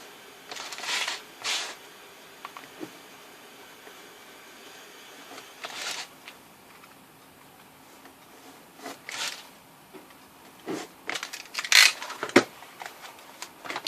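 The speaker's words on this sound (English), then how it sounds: "We're going to go ahead and use our tools for cutting." A cutting tool slices through craft foam to cut pieces for an Iron Man foam armor build, with scattered scratchy, crunchy bursts separated by quiet gaps and a quick cluster of cuts toward the end, close up without speech.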